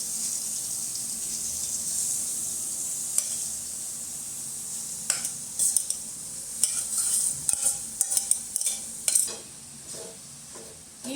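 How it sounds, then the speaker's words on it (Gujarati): Grated carrots sizzle in hot ghee for carrot halwa, a steady close frying hiss broken by scattered scraping and tapping as a spoon stirs the pan. "ઘી સેજ ગરમ થાય એટલે આ ગાજરના છીણને નાખી દઈશું અંદર."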